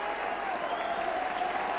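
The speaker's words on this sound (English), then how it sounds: "Well, Coy comes off to tremendous applause from the Motherwell fans" Motherwell football fans in a stadium applaud a player leaving the pitch as a substitute, steady dense clapping from a large crowd throughout, with no break.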